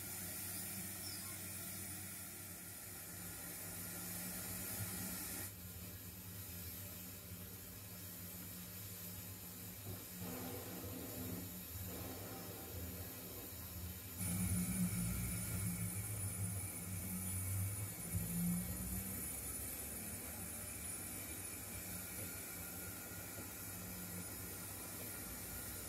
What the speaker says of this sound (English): the express goods train must run as the slower classification of through goods